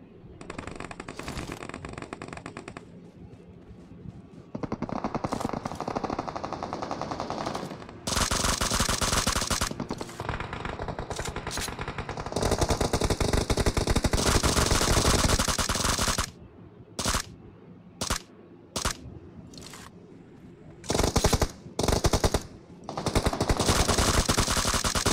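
Long, loud bursts of full-auto fire from an M416 rifle with a 6x scope in the mobile battle royale BGMI, sustained sprays broken by pauses and then short rapid bursts, close and dominant.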